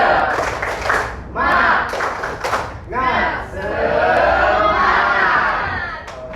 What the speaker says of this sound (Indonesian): Kita akan tepuk semangat, ya. Tepuk semangat.